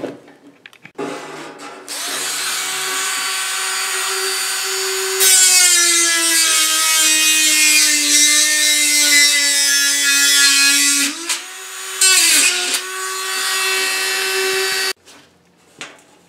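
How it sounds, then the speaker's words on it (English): A Dremel rotary tool scores a line into a thick metal shelf for a welding cart, its high whine grinding steadily up close for many seconds, with a brief pause and a change in pitch as the cut continues. "I'm going to take a Dremel tool and just score along the line there and then bend"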